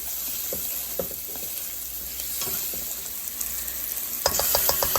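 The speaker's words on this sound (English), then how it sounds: "you're going to kind of saute these up" Onions sautéing in a pot for a one-pot stew chicken and jollof rice, a soft steady sizzle with occasional spoon scrapes and stirring clicks, growing busier with a run of rapid clatters at the end.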